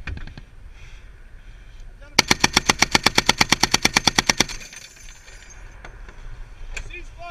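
A .50 M2 machine gun fires during a live fire exercise, one loud sustained burst of about twenty evenly spaced rounds over roughly two seconds, with quieter outdoor noise before and after.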